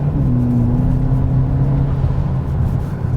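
A 2021 Hyundai Elantra N Line engine revving and accelerating, a loud, steady droning engine note with a rising tone held for several seconds over constant road and cabin noise.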